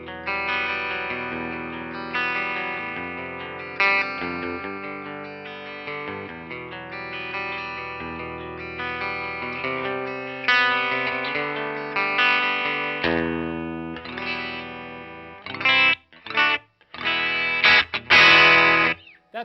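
A stock Peavey electric guitar played through its bridge humbucker with heavy distortion, chorus and effects, chugging sustained chords and riffs steadily before breaking into choppy stop-start bursts near the end.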